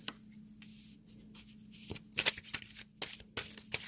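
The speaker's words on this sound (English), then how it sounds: "I've been shuffling the cards." Tarot cards being shuffled close by, a soft papery rustle broken by several sharp riffling bursts, with no talking.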